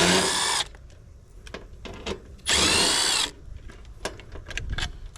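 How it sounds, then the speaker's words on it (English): An impact driver backs screws out of a board in two loud, close bursts of whirring and hammering, separated by clicks and handling noises. "I'm going to stick this thing in my impact. Get these screws out"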